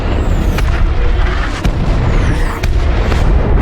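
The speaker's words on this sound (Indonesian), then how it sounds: "Greg bahkan meledakkan gedung-gedung di seberangnya dengan rudal yang dia miliki." Missile blasts level buildings in an action film, a dense continuous roar of explosions and rumbling booms with sharp impacts near 1.7 and 2.6 seconds, loud throughout.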